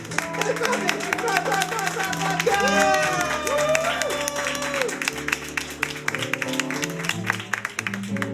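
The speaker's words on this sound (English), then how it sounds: "then we'll all clap together for the final act" A live audience at a stage show breaks into sustained clapping and cheering after a final act, dense applause filling the room while voices shout and talk over it.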